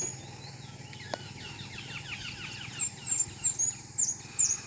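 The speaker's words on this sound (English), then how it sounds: "The chirping and the twittering sounds of the birds." Small birds chirp and twitter on a farm, a series of quick, high tweets that build into a louder run of repeated calls toward the end, fairly near, with no people talking.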